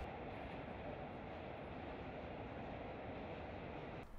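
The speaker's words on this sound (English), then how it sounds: "This is a classic Antwerp-bound freight, caught west of Lier" A freight train bound for Antwerp, hauled by 1980s locomotives west of Lier in Belgium, rolls past in a steady, continuous rumble and rail roar with no voices.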